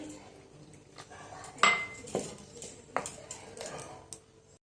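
Flour, turmeric, salt and chili powder get stirred with water in a bowl, a few sharp clinks of a metal spoon against the dish with softer scraping between, close and sparse, no talking.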